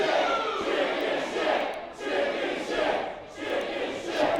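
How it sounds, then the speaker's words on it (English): Wrestling crowd at an indoor pro wrestling show chanting in rhythmic surges, a dense roar of many voices rising and falling in repeated phrases, moderately loud and fairly close. "And listen to the crowd here."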